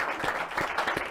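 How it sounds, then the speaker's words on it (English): A live studio audience at a panel discussion podcast taping in Dallas breaks into a short burst of clapping, moderately loud and pulsing, in a quick moment without speech. "We got a live studio audience here. Let's give it a clap."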